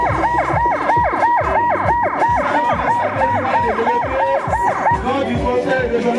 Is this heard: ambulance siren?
yes